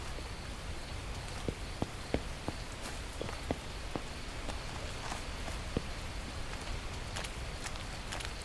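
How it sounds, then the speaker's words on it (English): Steady rain hisses in The Last Plague: Blight video game, with scattered sharp ticks and taps over a constant wash and no talking. "And it's raining."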